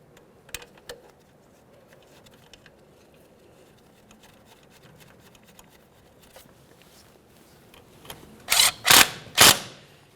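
Ratchet snugging up a 14mm bolt on the front strut of a 2009-2010 Pontiac Vibe, three quick loud clicking bursts near the end after quiet handling noises.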